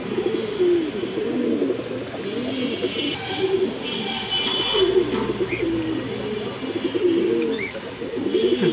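A pair of giant-size racing pigeons coo repeatedly in low, throaty, rolling calls, with a few faint higher chirps over a steady background hum.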